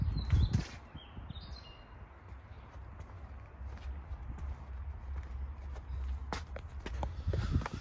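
Footsteps on the ground walking around an Iseki Landhope 147 tractor, soft irregular steps close by with a few clunks and rustles over a low background rumble.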